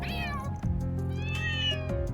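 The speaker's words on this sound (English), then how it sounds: "A cat meeting? I've never seen anything like this before." Several cats meow in overlapping, drawn-out calls at a cat gathering in the Trails Through Daybreak video game, close and clear with no talking.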